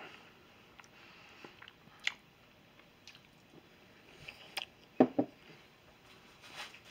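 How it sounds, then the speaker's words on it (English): Dense Canadian ration shepherd's pie meal cake being chewed close up: soft, irregular squishy bites with a few sharper crunchy clicks, quiet between chews, no talking. "Sorry about all the chewing."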